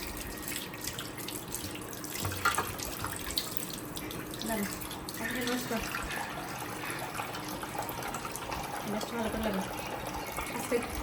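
A tap runs steadily while someone washes their hands at a home sink, making a continuous close splashing flow with voices over it.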